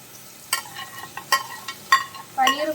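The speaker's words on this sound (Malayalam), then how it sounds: "പനീറും കൂടെ ചേർത്തിട്ട് നമുക്കൊന്ന് സോട്ട് ചെയ്തെടുക്കാം." Paneer and vegetables sauté in butter for a restaurant-style veg pulao, with short bursts of sizzling and a few spoon scrapes against the pan, fairly close and loud in brief clusters.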